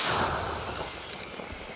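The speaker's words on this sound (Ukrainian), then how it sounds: "Гармата! Постріл!" A D-20 howitzer firing at an artillery position: one sharp, loud blast at the start, then a long decaying rumble and crackle.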